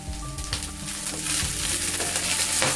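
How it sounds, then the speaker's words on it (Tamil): Basil leaves sizzle and crackle in a hot pan with crispy chicken while being stirred, a loud, steady frying hiss close up with occasional scraping, no voices. "இந்த இலையை போட்டு நல்லா வதக்குங்க."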